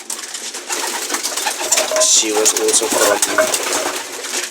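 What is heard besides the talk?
racing pigeon cooing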